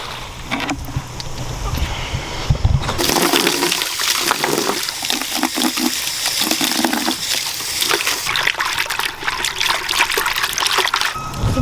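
Water runs into animal water buckets on a farm, a loud steady splashing trickle that briefly changes tone as the flow shifts, continuing close by without talk.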